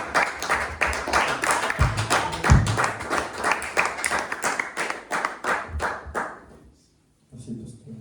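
Church congregation clapping together in a steady rhythmic beat to acclaim the Lord during worship, loud and continuous with a few heavier thumps, fading out near the end before a brief voice.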